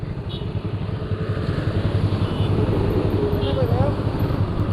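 A KTM motorcycle engine hums steadily at low idle, a continuous throbbing drone with a faint higher whine rising briefly near the end.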